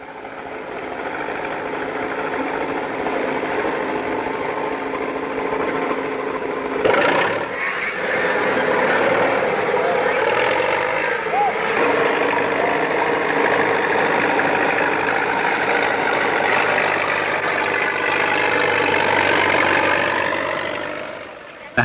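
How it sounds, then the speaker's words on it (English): Tractor engine running steadily in rice fields in rural China, a continuous mid-level mechanical drone with a brief louder knock partway through. "The husband drives a tractor in the rice fields."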